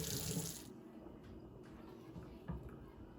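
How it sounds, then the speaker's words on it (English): About half a cup of milk is poured into a thick mac and cheese sauce, a brief close liquid splash and gush lasting under a second before dropping to quiet background. "I'm gonna go ahead and add about 1/2 cup more of milk."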